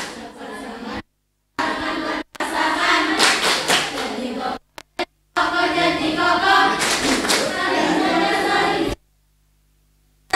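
Group clapping game called tepuk sakinah, with an audience clapping together in bursts broken by abrupt silent gaps, the claps mixed with voices chanting or calling along.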